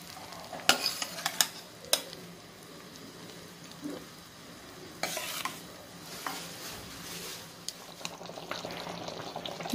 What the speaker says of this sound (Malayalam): നമുക്കിനി ചവ്വരി ഇതിലോട്ട് ചേർത്ത് കൊടുക്കാം വേവിച്ച് വെച്ചിരിക്കുന്ന.